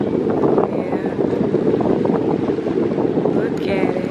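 Wind gusts roar steadily into the microphone outdoors, a close, continuous rushing with faint voices in the background.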